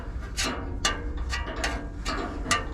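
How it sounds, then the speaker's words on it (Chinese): A screwdriver prods the seized fan of an air conditioner's outdoor unit, its motor rusted stuck while the compressor runs: about six sharp, evenly spaced clicks ring out close over a steady low mechanical hum. "我用个螺丝刀来拨一拨它。"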